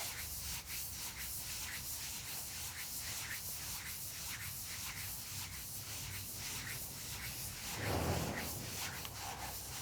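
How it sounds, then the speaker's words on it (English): Hands rubbing around the outside of a knee joint during a seated prenatal yoga stretch, a steady soft swishing friction in repeated strokes, close and quiet with no talking. "using your hands, just rubbing around the outside of that knee joint"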